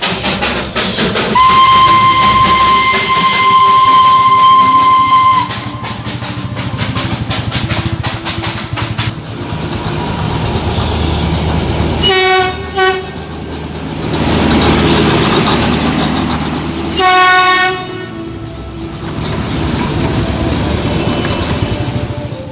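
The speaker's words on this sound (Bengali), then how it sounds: "সামনে দেখো টয় ট্রেন আসছে।" The Darjeeling toy train pulls into Darjeeling railway station, sounding a long steady whistle before its engine rumbles and chugs nearby, with a couple of sharp rhythmic bursts later on.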